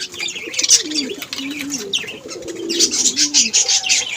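Fancy pigeons cooing in a loft, with soft repeated coos and some chirps that come close and fairly loud, and no talking heard.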